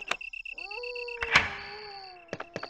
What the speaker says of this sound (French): Et la porte s'est déverrouillée comme nous l'avons entendu.